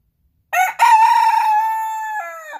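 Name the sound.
silkie rooster crowing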